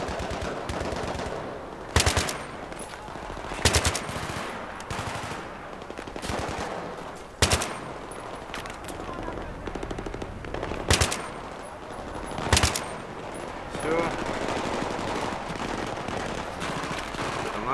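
Machine-gun fire in the video game Battlefield 3, loud sustained bursts with sharp heavier shots punching through at intervals, no talking over it.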